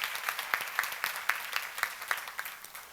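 Audience clapping at a church seminar during a sermon, faint and fairly sparse, with distinct claps falling in a steady, regular rhythm and no talk over them.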